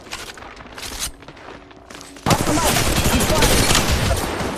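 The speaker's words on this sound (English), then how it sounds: "Taking fire." Gunfire in the mobile battle royale shooter Apex Legends Mobile starts abruptly midway as a loud, dense, sustained fusillade, following quieter footsteps and scattered in-game noise.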